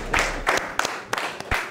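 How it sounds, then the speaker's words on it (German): A small studio audience at a German game show claps for two contestants in a few scattered, uneven bursts rather than a sustained ovation, close and fairly loud. "erstmal Applaus für die beiden"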